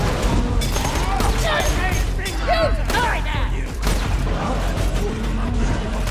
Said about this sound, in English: Is this like a sniper shotgun?